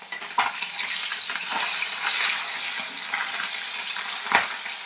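Pabda fish frying lightly in a pan, a steady close hiss of sizzling oil with occasional soft clinks and stirring scrapes, no voices.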